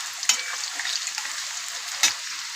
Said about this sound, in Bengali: এখানে আমি ফোড়ন দিয়ে দিলাম আর আলুটা একটু ভাজা ভাজা করছি।